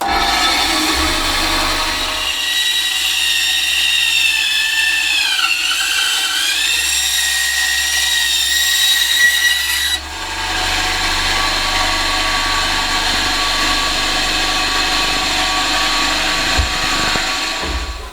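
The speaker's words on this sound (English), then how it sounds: "it's now a matter of finding out whether or not we've got the power to cut this sort of timber" Power saw cutting softwood timber along the grain, a loud, steady, close motor whine that bogs down and pitches lower under load, with a short break before the cut resumes and runs on to the end.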